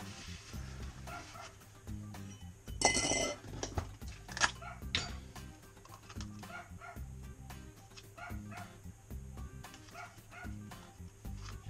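A dog barks repeatedly in short bursts at a moderate distance, with yips and some clattering between barks.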